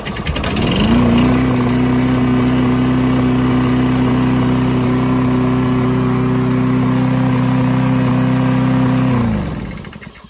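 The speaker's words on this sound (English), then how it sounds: "Let's see how it starts, or if it starts." Lawn Boy mower with a Tecumseh engine and a new carburetor starts up quickly and runs at a loud, steady drone close by for several seconds before cutting off.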